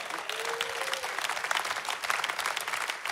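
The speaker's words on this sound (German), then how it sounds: "If you are a human being, clap for Jesus." A church congregation clapping together at a service, dense, steady applause that starts after a brief voice and continues loudly for several seconds.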